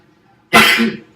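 A single sharp, explosive sneeze, close and loud, with a breathy burst that fades out quickly after a quiet moment.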